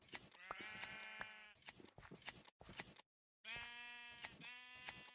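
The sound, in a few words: sheep bleating in a video game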